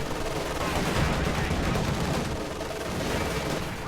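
Sustained machine gun fire from a top-mounted vehicle gun and LMG grenadier squads in a World War II strategy game, a dense continuous battle roar of overlapping bursts without letup.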